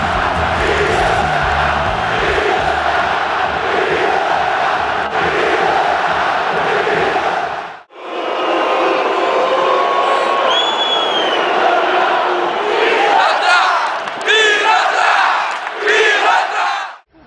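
A packed stadium crowd at a Grêmio football match roars and jeers loudly and continuously at Ronaldinho, a dense, sustained wall of voices that cuts off abruptly and then gives way to a lighter, more scattered crowd murmur with whistles and shouts.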